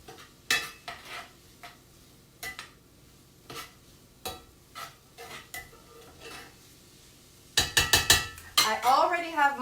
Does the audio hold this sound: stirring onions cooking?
yes